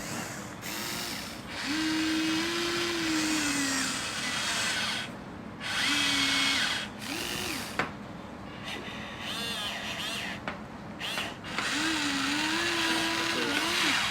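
A Huina 1593 RC excavator's motor turns its body, a loud whirring electric whine that rises and falls in pitch through several runs, separated by brief pauses and small clicks.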